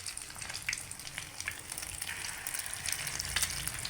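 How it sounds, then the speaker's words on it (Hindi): Aloo tikki fry in hot oil with a soft, continuous bubbling sizzle and scattered crackles, fairly quiet and without talk. "जब ऑयल गर्म हो जाए फुल तेज़, तब इसमें हम टिक्कियाँ डालेंगे एक एक करके"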